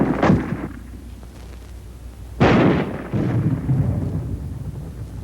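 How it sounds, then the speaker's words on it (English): Armor-piercing ammunition fired at a wall from up to 200 yards gives two heavy, booming blasts a couple of seconds apart, each trailing into a low rumbling tail, loud and with no voices. "armor-piercing ammunition can smash through this kind of wall any time"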